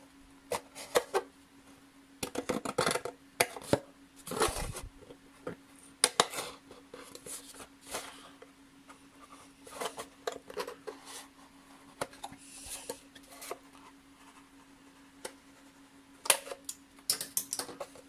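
Irregular snipping and clicking of scissors cutting material, in uneven bursts with short pauses, close by and fairly quiet.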